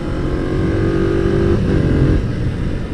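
A Kawasaki ZZR 250 motorcycle on a test ride, its engine droning loud and steady up close with a slight shift in pitch partway through.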